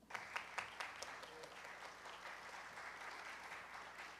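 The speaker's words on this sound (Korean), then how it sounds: "단상으로 나오시면 큰 박수 다시 한번 부탁드리겠습니다." Steady applause from an audience at a public science and technology safety forum on typhoons and heavy rain, sustained throughout, with a few louder claps near the start and faint voices mixed in.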